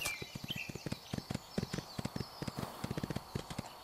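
Horse hooves in the riding game Ostwind Remastered: a steady, rhythmic clip-clop of a walking horse, clear and close, over a faint background ambience.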